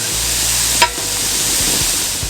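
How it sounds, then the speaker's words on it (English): Diced onion and red pepper fry in a pan with a steady, close hiss of sizzling, broken by a brief clatter of stirring near the start. "add it to the pan, and you're frying it until the onion starts to go glassy"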